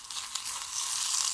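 Spiced prawn masala with chilli powder stirred and sautéed in a pan, giving a steady, close hiss and sizzle with faint scraping, continuous and without talk.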